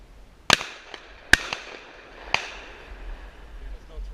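Gunshots during an outdoor bird hunt, heard as three sharp cracks a second or so apart, moderately close, followed by quiet ambient outdoor noise.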